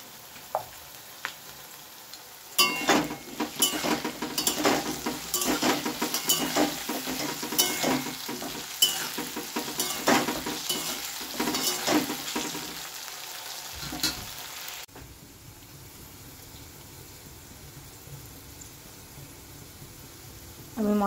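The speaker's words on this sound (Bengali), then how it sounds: "আমি আলুর মধ্যে হালকা লবণ আর হলুদ দিয়ে ভেজে নেব।" Potato pieces with salt and turmeric fry in a pan, with steady sizzling and repeated scraping, stirring clatter for several seconds before the sizzle drops to a quieter hiss.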